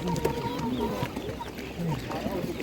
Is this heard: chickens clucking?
yes